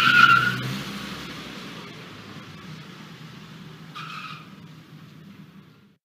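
A car skids in a Roblox video game, with a sharp tire squeal at the start, then a steady engine rumble that fades over several seconds and a brief second squeal midway.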